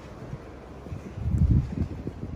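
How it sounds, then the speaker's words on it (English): Wind buffets and rumbles in low gusts outdoors at a garden center, rising to a stronger blast halfway through and settling again, with no voices. "Oh my gosh, it's windy."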